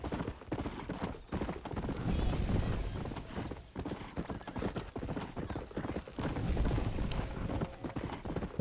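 In the Red Dead Redemption 2 video game, a horse gallops at speed, its hooves beating out a rapid, rhythmic clip-clop that stays loud and close, with brief surges in intensity.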